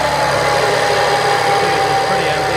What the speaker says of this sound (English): what it sounds like when it's low on power steering